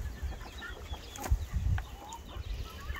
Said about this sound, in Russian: Он хороший, крупный петух.